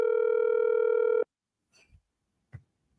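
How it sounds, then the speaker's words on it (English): A single long telephone ring tone, loud and steady for just over a second, heard on a radio show call, followed by silence and a couple of faint bumps. "We only get the phone ringing"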